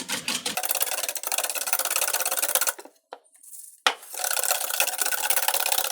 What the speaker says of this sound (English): We're basically whisking until the egg yolks get fluffy and the sugar incorporates.